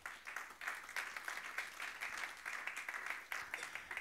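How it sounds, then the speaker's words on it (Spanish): A church congregation claps for the Lord during a sermon, a faint, distant patter of many hands in a loose repeating rhythm with no talking over it. "Dale palmas al Señor."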